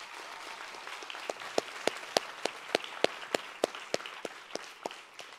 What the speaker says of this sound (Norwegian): Jeg synes vi skal gi de alle 3 en god applaus til.